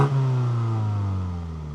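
BMW M235i 2020 four-cylinder engine and exhaust revving loudly up close, a strong harmonic drone that sweeps and settles over under two seconds, no voices.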